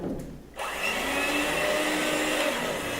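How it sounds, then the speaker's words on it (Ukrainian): Milk and egg are beaten together for a batter for deep-fried cauliflower, a steady, loud whirring that starts abruptly and runs on continuously without pause. "Збиваємо молоко з яйцем."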